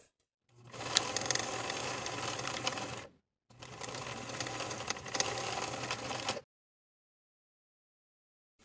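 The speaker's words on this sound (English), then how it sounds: "Now we can sew the side seams with a 3/8 inch seam allowance." Sewing machine stitching the side seams of a fabric pattern weight at a 3/8 inch allowance, two steady bursts of fast mechanical whirring separated by a brief pause, close and alone, then silence.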